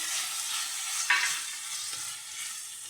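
Tomatoes fry in a pan with a steady, bright close sizzle, broken by one brief clatter of a utensil partway through.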